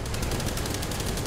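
Rapid, dense gunfire roars from a gun in War Thunder, a tank battle game, as continuous loud bursts with no pauses and no talk.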